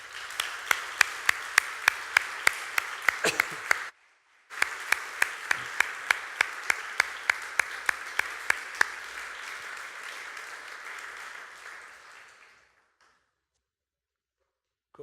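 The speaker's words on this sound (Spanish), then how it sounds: "Vamos a darle un fuerte aplauso." A church congregation bursts into strong applause, with sharp rhythmic claps in unison throughout. The clapping breaks off briefly near four seconds, then resumes and fades out around twelve seconds.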